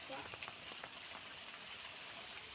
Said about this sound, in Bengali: দেখো বৃষ্টি হচ্ছে